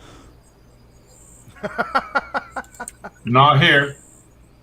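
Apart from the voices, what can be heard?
crickets chirping at night in the tropics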